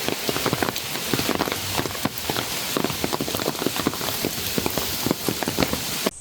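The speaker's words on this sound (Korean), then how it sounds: "근데 진짜 비 오니까 너무 좋다." Steady rain falls on hard surfaces at a Korean resort, a dense, continuous patter of drops with scattered louder splashes close by, with no voices over it.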